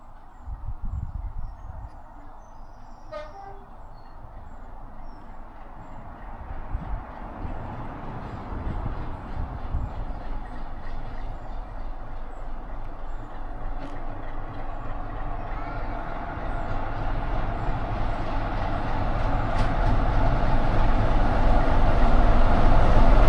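A train on the Midland Railway, heading toward Swanwick, approaches with a low rumble that slowly builds into a louder, broad roar as it nears and passes. Light background noise sits beneath it and no one speaks.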